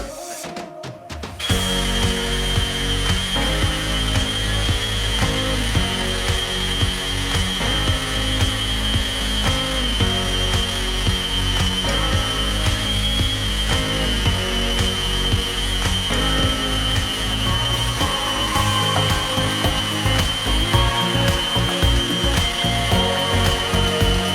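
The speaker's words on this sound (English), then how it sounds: "as this stuff sands really well, really easily, 120 is perfect. This really will eat through it" Plaster filler is sanded by hand with 120 grit sandpaper on an interior wall crack, a loud, steady rhythmic scraping that continues throughout.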